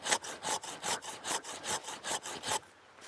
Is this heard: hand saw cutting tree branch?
yes